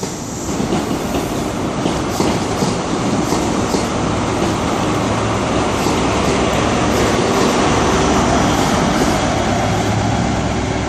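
A Class 43 HST train at Exeter St David's station on the GWML, running as a loud, steady rumble of engine and wheels that holds for the whole stretch, with a faint high whine above it and no talk.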